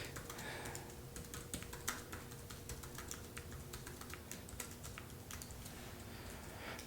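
Quick, uneven clicks of typing on a computer keyboard while entering a quiz question, close and fairly quiet, with bursts of keystrokes and brief pauses, no talking.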